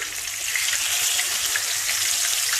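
Fish sizzling and crackling steadily in hot oil for escovitch fish, a dense, continuous frying hiss close by, with no talk.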